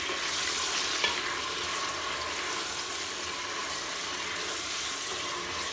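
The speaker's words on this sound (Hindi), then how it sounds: "खड़े मसालों को मैंने सौते कर लिया, अब इसके बीच में मैं प्याज डाल दूँगी।" Onions fry in oil with sautéed whole spices for a village-style country chicken curry, giving a steady soft sizzle and light stirring, faint and close, with no speech.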